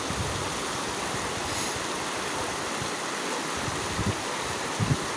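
A small river stream runs close by, a steady broadband rush of flowing water with no talk and a few faint knocks near the end.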